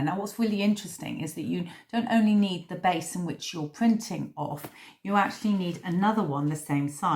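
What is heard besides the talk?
No everyday noise stands out behind the speech.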